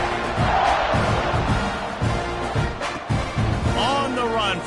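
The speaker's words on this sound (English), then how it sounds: "this crowd is feeling themselves after that last drive" A stadium crowd in an NCAA 26 college football video game roars and cheers in a dense, continuous swell, with rhythmic chant-like pulses and a commentator talking over it.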